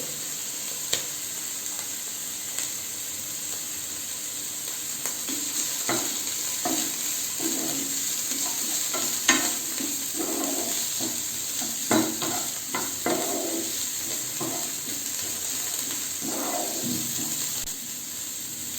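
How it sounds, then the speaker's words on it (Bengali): Chopped cabbage pieces sizzle in a hot pan for a chicken soup, with a steady frying hiss and repeated scraping stirs of a utensil against the pan, close and continuous, no voices. "এরপর এর মধ্যে দিয়ে দেব কেটে রাখা বাঁধাকপির টুকরো।"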